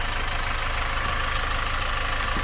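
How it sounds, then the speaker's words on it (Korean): A SsangYong Korando C engine idles with a newly fitted off-the-shelf replacement exhaust muffler, installed after the old one corroded and burst. It gives a steady, continuous low rumble, close and loud, with no voices. "조립하고 시동 걸고 소리를 한번 확인합니다."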